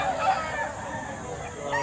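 Roosters at a busy poultry market in Batangas crow, a drawn-out call rising over a steady crowd din, fairly close, with a second crow starting at the end.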